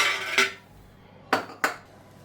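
A clean steel bowl is handled on a kitchen surface, giving three sharp metallic clinks, one early and two close together near the end, loud and close with quiet between them.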